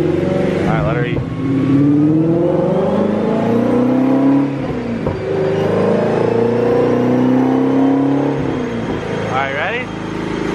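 A Ford Mustang GT350 V8 strains on a dyno during a full pull, engine howl climbing in pitch, dropping back and climbing again in a loud, close roar, with voices briefly heard around it.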